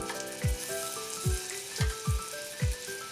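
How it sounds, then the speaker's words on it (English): Lamb chops searing in melted butter in a pan, a steady crackling sizzle under music with a repeating bass beat. "now I want to sear the lamb chops on either side"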